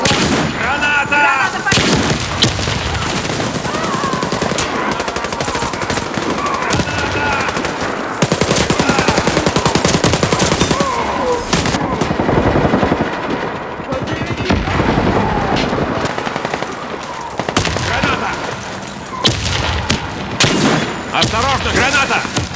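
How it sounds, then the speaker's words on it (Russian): Grenade blasts and nonstop automatic gunfire fill a Warface multiplayer firefight, with heavy booms and rattling bursts layered densely and loudly throughout, and voices occasionally shouting beneath the din. "Осторожно, граната!"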